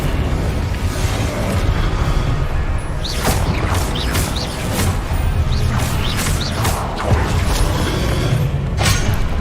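In Hogwarts Legacy, the Incendio fire spell is cast in a heavy stream of fiery bursts and crashing impacts, loud and continuous over rumbling game background.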